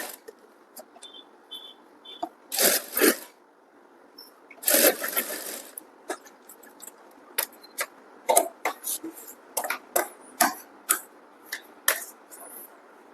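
A sewing machine stitches a strip onto a blouse neckline in short, stop-start runs of rapid clatter, with quiet gaps and handling noises between bursts.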